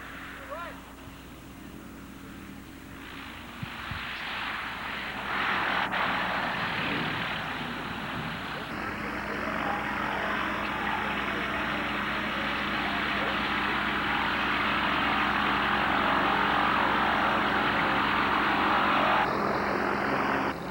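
Varga Kachina light airplane engine droning steadily in flight, a sustained broadband propeller roar that swells and holds loud throughout, with a voice speaking faintly under it early on.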